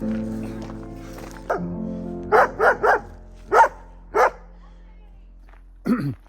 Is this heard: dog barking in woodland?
yes